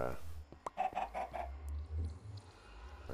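Chickens cluck in a Minecraft video game, a short run of repeated clucks at moderate level over low background hum.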